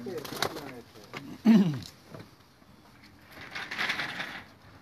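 A loft of pigeons in Greece murmurs with soft, throaty coos, one louder burst standing out, alongside shuffling and someone talking close by.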